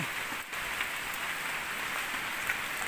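Heavy rain pours steadily onto a palm plantation as floodwater spills in from a nearby canal, a dense, even hiss of drops on foliage and ground with no pauses, loud and close throughout.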